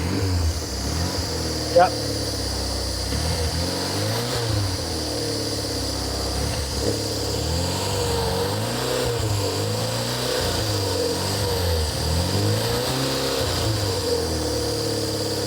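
A barn-find Porsche 911 Carrera engine runs on choke with a steady, uneven rumble that rises and falls in revs throughout, with a brief spoken word early on.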